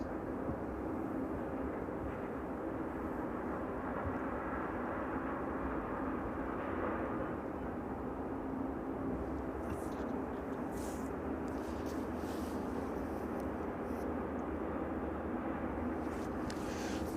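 A departing airliner at East Midlands Airport, an Aegean airframe leaving well behind schedule, rumbles as a steady, broad engine roar that holds at a moderate distance throughout, with faint brief hiss and clatter near the end.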